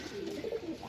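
Several pigeons, offered for sale in Sarai Alamgir, Gujrat, coo in low, soft, rolling phrases that overlap through a short moment, close by and steady with no talk.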